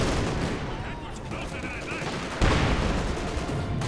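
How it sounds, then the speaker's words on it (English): Rapid gunfire and mortar blasts fill a Company of Heroes 2 match, a dense, continuous battle din with a sharp burst midway. "guard squad moving up, going for the victory point, coming under fire. Mortar continue to fire away."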